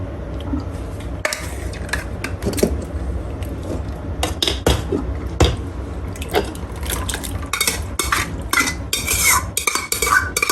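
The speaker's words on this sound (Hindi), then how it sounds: "बर्तन को अच्छे से साफ करें" A metal utensil scrapes and clinks against a cooking pot while chicken biryani is layered, with irregular close scraping strokes and sharp clanks over a soft, wet stirring sound.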